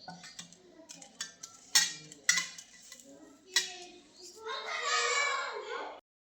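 Utensils clink against a bowl, then a steady close rustling, squishing sound as flour dough is mixed with water and kneaded stiff by hand.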